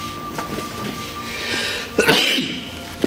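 One abrupt, forceful sneeze bursts out near the mic after a few seconds of low rumbling background noise.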